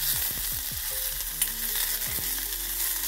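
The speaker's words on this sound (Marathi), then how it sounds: "आपला कांदा लालसर झाला की त्याच्यामध्येच आपण खोबऱ्याचे काप टाकून घेऊया, सोबतच भाजले जाते।" Onion and dried coconut slices fry together in a pan, making a dense, steady sizzle broken by a few quick stirring scrapes near the start, with no one speaking.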